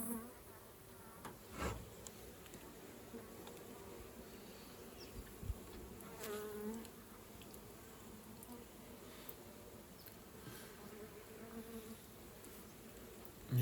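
Honeybees buzz faintly around a swarm trap mounted outdoors in summer, a soft, steady hum with a few louder passes as single bees fly close to the microphone.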